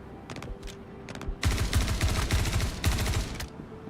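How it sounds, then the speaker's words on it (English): Sustained automatic gunfire in the video game Star Citizen, starting with a few short bursts and then a long, loud, rapid rattling volley up close. "there's still more shooting going on"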